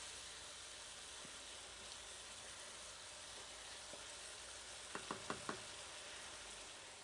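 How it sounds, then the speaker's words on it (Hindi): Lamb liver fries in a pan with a faint, steady sizzle and hiss, broken near the end by a few quick knocks of a spoon against the pan. "इसको अब आप सिर्फ 10 या 15 मिनट के लिए भूनेंगे"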